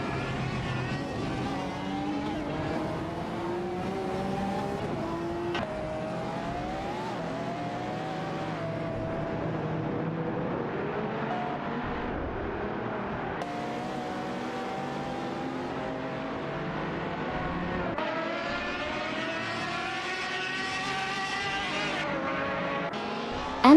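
Race cars in an AI-driven racing video game roar continuously with rising and falling engine pitch as they jostle and overtake, a steady, loud blend of several engines throughout with no voices.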